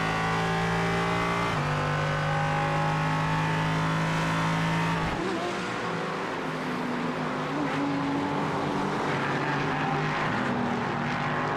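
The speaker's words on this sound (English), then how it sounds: "You can hear the rear tires trying to grip." Race car engine in a sim racing game at Imola, a sustained loud whine that shifts pitch as the rear tires struggle for grip, with a faint squealing edge and no talking.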